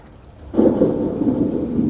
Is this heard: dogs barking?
no